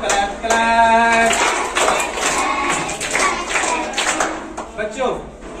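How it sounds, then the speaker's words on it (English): Children clap along to a counting action song in a classroom, quick bursts of handclaps mixed with singing voices and chatter. "Touch your ears, clap, clap, clap."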